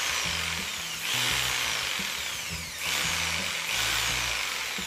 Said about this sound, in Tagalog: First time kong magpipindot ng trigger ng jigsaw.